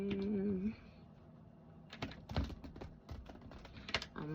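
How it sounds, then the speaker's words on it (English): Tarot cards shuffled by hand in a series of soft, papery riffles and taps, close and moderately loud, with a brief hum of voice at the start and end. "I'm gonna shuffle them one more time."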